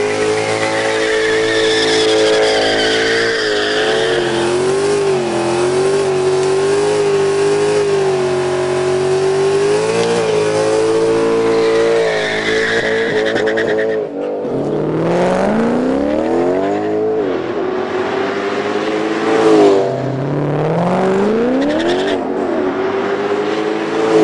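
City Performance tuned Mercedes C63 engine revs hard and loud for a long stretch, with a sustained growl that swells and falls and then sharper rising and dropping revs toward the end.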